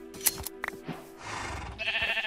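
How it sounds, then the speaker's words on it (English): Minecraft sheep giving short bleats inside the game, a few brief calls over a quiet background, with a louder bleat-like swell near the end and no talking. "Come here, sheep."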